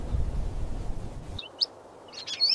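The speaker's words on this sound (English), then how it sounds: "Birds rest on the cactus arms. Their songs echo through the desert air." Birds perched on saguaro cactus in the desert give a few short, high chirps, close and clear, after a low rumbling start that fades to near quiet.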